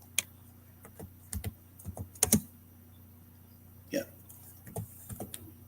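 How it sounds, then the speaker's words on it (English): Someone types on a computer keyboard with one hand in irregular, halting clusters of key clicks separated by pauses, close and fairly quiet, against a steady low hum, with a brief spoken word in the middle. "I'm typing with my left hand, so this is not going too well."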